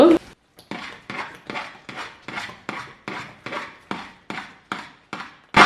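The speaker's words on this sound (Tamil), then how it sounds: "வச்சுக்கொண்டு இதை நல்லா அவதானமாக கிண்டிடுங்க." Rice flour dodol being stirred in a pan over medium heat, giving a steady run of about a dozen rhythmic scraping, rubbing strokes, each a short swelling sweep with a brief pause between, close and fairly loud with no talking.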